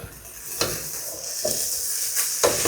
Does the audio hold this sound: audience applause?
no